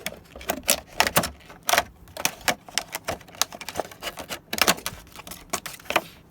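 A piece of acetate plastic from recycled packaging being cut close up, giving a rapid, uneven run of crisp clicks and snips with no talking.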